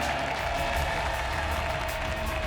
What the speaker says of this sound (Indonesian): Tepuk tangan dulu untuk tebakan para panelis.